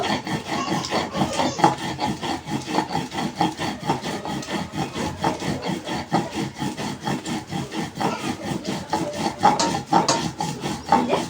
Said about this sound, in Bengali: আর একবার বাটা দিয়ে নেব, করে বেটে নেব।